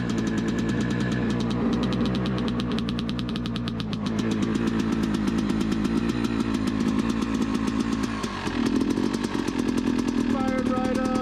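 A Yamaha YZ250X two-stroke dirt bike with a Panthera electric start runs at Carnegie SVRA, a loud, close, crackling engine that idles with rapid pulsing and briefly rises in pitch near the end.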